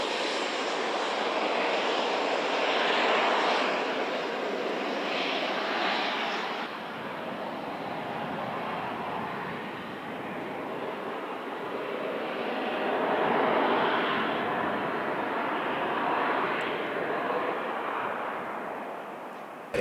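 Jet suit with small jet engines on the arms and waist, a loud continuous roaring hiss that swells and eases in waves throughout, with no talk.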